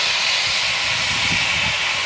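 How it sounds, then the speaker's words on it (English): A steady, loud broadband hiss of venting steam from a steam train at the Strasburg Railroad in Pennsylvania, continuous and close, with a low rumble underneath. "You can hear the train,"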